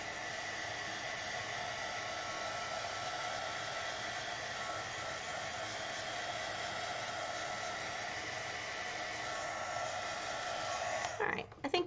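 A heat drying tool blowing over a stamped watercolor birthday card makes a steady, close, breathy roar for about eleven seconds, then cuts off with a few handling clatters.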